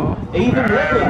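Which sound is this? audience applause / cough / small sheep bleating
small sheep bleating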